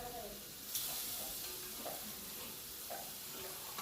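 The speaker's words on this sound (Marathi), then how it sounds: "हे आता मटण थोडंसं परतून घेऊया आपण" Mutton pieces sauté in a hot pan with stock for Kolhapuri tambda rassa, giving a steady close sizzle with occasional stirring scrapes and no talk.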